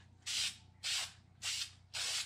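Four even bursts of aerosol spray paint hiss from a can held straight at go-kart rims, each about a third of a second long with brief pauses between, close and clear with no talking.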